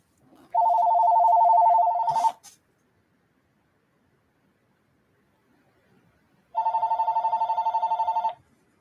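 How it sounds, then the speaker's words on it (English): A phone rings twice in a home livestream setting, two loud electronic trilling bursts each about two seconds long, separated by several seconds of near silence. "And that would be my phone right now."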